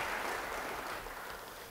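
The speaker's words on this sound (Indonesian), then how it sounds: "Beri tepuk tangan bagi Tuhan." A church congregation claps during a sermon, a short, fairly faint burst of applause that fades slightly toward the end.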